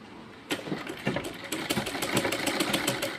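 A sewing machine runs in quick bursts, stitching fabric pieces together for a neck binding. Its rapid mechanical chatter starts and stops, then settles into a steady whirring run, fairly close, with no voices heard.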